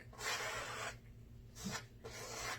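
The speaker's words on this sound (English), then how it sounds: "I want it to scrape across the canvas, giving it a texture" Paint is dragged lightly across canvas in a thin coat for texture: soft, raspy scraping strokes, three separate passes with brief pauses between them, close and fairly quiet.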